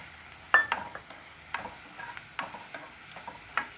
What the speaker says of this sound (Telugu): సో ఇవన్నీ వేగాలి.